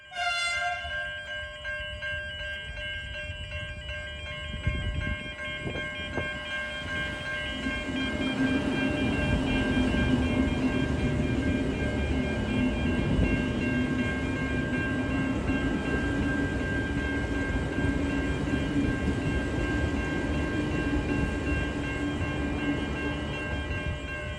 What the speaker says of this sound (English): We've got a Melbourne-bound train coming through